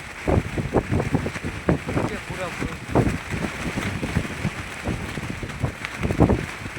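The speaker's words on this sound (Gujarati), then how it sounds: "પવનની ગતિ પણ વધતી જાય અને વરસાદ પણ વધતો જાય" Strong wind and rain storm at night in the salt desert, a gusty roar with buffeting wind noise on the microphone running throughout, while people talk over it close by.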